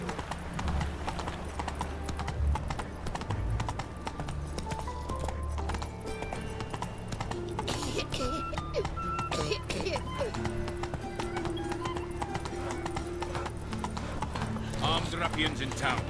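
Horse hoofbeats from The Witcher 3 game, a rapid, steady clip-clop of a galloping mount, close and continuous, with a whinny and game voices speaking over the hooves.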